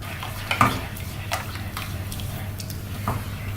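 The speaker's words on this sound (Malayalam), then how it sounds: "എല്ലാം ഒന്ന് മിക്സ് ചെയ്ത് ഈ സമയത്ത് നമുക്ക് ഉപ്പും കൂടി ഒന്ന് നോക്കാം." A jackfruit seed and green mango curry gets stirred in a pot, with a few light scraping knocks of the spoon over a low steady simmer, fairly quiet and with no talking.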